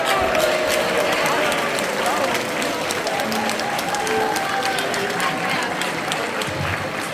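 Dense, steady applause from a large crowd at an outdoor song and dance festival in Viljandi, Estonia, sustained across the whole stretch with voices mixed into the clapping.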